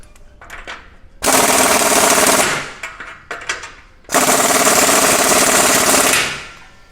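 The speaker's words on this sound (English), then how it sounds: "So now I'm going to tighten my clamp further to really snug it on there" A power tool, likely an impact wrench, snugs an exhaust clamp on a clamp-on exhaust kit for a 2011-2023 Ford 6.2L or 7.3L, firing in two loud sustained rattling bursts of about a second and two seconds, with quieter clanks between.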